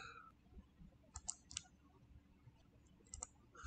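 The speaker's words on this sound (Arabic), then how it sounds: "دبل كليك" A computer mouse double-clicks while a 3D chart is formatted in Excel; the quiet, sharp clicks come in brief close pairs against a faint background hiss.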